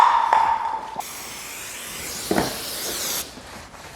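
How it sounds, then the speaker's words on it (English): Aerosol brake cleaner sprayed onto a damaged car body panel to strip grease and oil before painting, a steady close hiss lasting a couple of seconds and then cutting off, with a short hiss at the start. "Why am I using brake cleaner? Try and get rid of the grease and oil"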